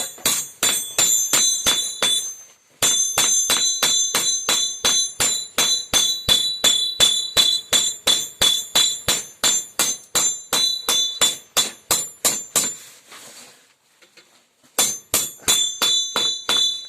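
Hammer forging of a Sakha knife blade: a fast, loud, even run of ringing metallic blows on the steel, a brief pause near the start and a longer one near the end before the strikes resume.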